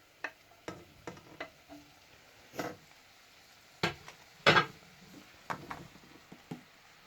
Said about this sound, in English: So, stir in the tomatoes.